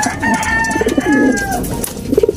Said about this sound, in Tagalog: Itong ibon na to, ibon ni Richard Gomez, Taiwanese.